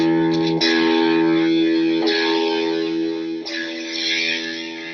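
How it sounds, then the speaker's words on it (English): Electric guitar driven through an Orange Getaway Driver distortion pedal, played as three sustained, heavily distorted chords, each struck and left to ring loud and close with no talk over it. "Orange makes the Getaway Driver, which in itself is a really cool distortion box."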